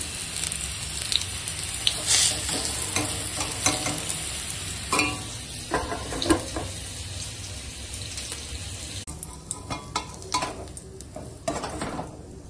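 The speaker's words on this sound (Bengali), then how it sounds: "এইভাবে কুমড়ো ভাজা করবে" Pumpkin slices fry in a pan of hot oil, a continuous sizzle with clinks and scrapes as the pieces are stirred and turned, some splashy water-like bursts, no voices.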